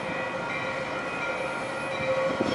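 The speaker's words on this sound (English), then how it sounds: "Metro." Metro train running on the rails, a steady droning rumble with a sustained whine, building slightly louder toward the end.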